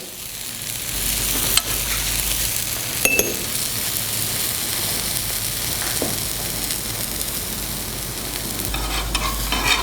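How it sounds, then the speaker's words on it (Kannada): A besan dosa frying in oil on a pan, giving a steady close sizzle throughout, with a few sharp clinks of a utensil against metal and no voices. "ಈ ಇನ್ನೊಂದು ಕಡೇ ಬೇಯಿಸಕೊಳ್ಳಿ ಈ ಕಡೇಗೂ ಸ್ವಲ್ಪ ಎಣ್ಣೆ ಹಾಕೊಳ್ಳಿ"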